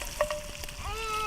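Bacon fries in a pan over an open fire, giving a soft steady sizzle with a couple of faint ticks and a thin high whine, heard briefly and quietly with no voices.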